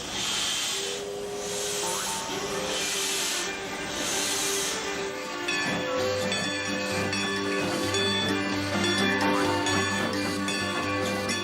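A steam locomotive pulls a funeral train out of Washington bound for Baltimore, hissing steam loudly and steadily while sustained whistle-like tones rise in after about six seconds.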